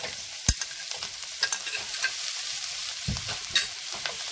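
Sausages fry in butter with spices in a pan for spaghetti with green beans, a steady bright sizzle with occasional stirring knocks and scrapes, close and without voices.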